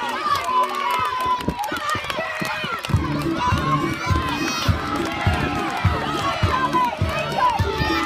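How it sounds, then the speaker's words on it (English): Crowd at a boys' relay race cheering and applauding runners on the home straight, a dense, continuous roar of voices and claps with excited shouts rising throughout. "massive round of applause on the home straight"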